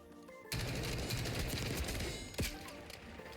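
Sustained rapid automatic gunfire in the Black Ops 6 video game during a team deathmatch, bursting in abruptly and continuing loud, with a single heavier shot near the end.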